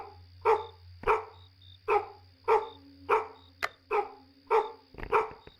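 A dog barks repeatedly in an Unreal Engine video game, eight sharp, evenly spaced barks sounding close and dry against a low steady hum, with no talking over them.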